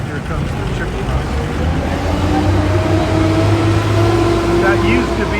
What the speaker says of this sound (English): Here comes the chicken bus.